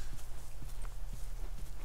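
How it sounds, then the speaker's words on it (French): In The Last of Us, a horse's hooves clop at a steady walking pace, four evenly spaced footfalls over a constant low background hum, with no talk. "Je suppose que Ellie nous suit à cheval"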